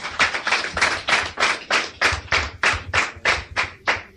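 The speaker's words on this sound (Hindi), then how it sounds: "ताली बजाने इनके लिए।" An audience claps in slow, steady unison, with about fifteen evenly spaced, fairly loud claps in a regular rhythm.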